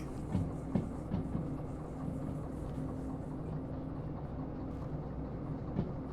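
A small DE2 diesel locomotive in the game Derail Valley hauls a fairly long train. The engine holds a steady low rumble, and faint clicks come through now and then, with no talk.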